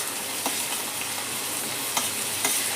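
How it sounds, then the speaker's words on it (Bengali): Salted vegetables with frozen peas fry in a pan for vegetable Maggi noodles, producing a loud, even, close sizzle with faint stirring taps every so often. "সবজিটা অনেকটাই ভাজা ভাজা হয়ে এসছে নুন দিয়ে"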